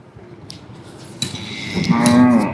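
Cattle and calves at an evening cattle market in Kannapuram, with a loud drawn-out moo rising near the end over a busy livestock background, no talking.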